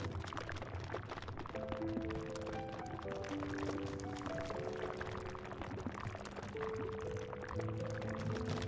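Liquid gushing from a geyser in the video game Spirit of the North, like water or oil, pouring steadily and continuously under a layer of tonal game music.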